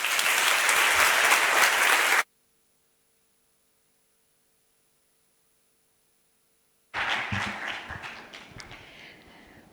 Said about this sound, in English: give a deluge of clapping hands for the first Vice President of Spain